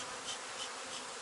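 Bees hum inside an opened hive, a dense continuous buzzing close by with no voices.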